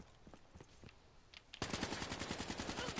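M8 rifle in Black Ops 3 multiplayer firing a rapid sustained burst of loud automatic shots after a few scattered quieter game sounds.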